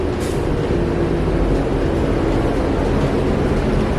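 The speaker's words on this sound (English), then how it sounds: "we just missed the train going through." A train rumbles past close by, a steady loud roar of rail noise filling the whole stretch without any speech, heard near a bus rapid transit line.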